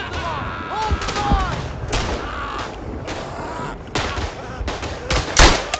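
Gunfire booms in the WWI shooter Verdun, a French campaign battle near the Aisne, with several loud sharp shots and distant blasts scattered over a busy battlefield, with a voice talking over it.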